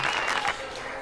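Brief burst of crowd applause and cheering at a podcast gathering, dense clapping that drops in level halfway through and keeps going more softly.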